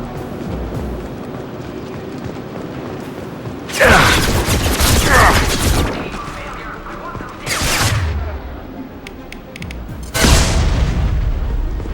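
Gunfire and blasts in the sci-fi shooter Mass Effect 2 come in three loud, close bursts over a low rumbling background, with brief voices in between.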